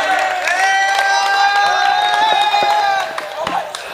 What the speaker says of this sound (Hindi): अपने महबूब अपने मेजबान शायर का इस्तकबाल पुरजोर तालियों से किया जाए